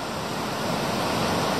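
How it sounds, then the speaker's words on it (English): A waterfall pouring onto a sheltered, windless beach on Ireland's Wild Atlantic Way, a dense continuous rushing roar, close and fairly loud, with no voices. "That's the waterfall."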